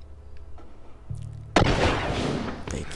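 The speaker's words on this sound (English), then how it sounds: "I have a smoke bomb." A smoke bomb in The Last of Us video game goes off with a sudden sharp pop, followed by a loud, sustained hissing rush of smoke. A low rumble precedes it.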